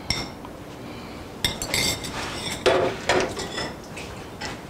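Banana cake mixture is beaten in a bowl, with a few sharp clinks and scrapes of utensil against the bowl in irregular bursts over a soft background, close by and without talking.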